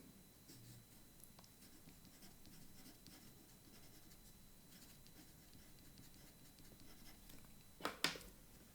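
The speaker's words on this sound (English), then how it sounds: "let's write the name." A Caran d'Ache NeoColor crayon scratching across paper while a colour name is written, a faint, steady rubbing texture with a brief louder scrape near the end.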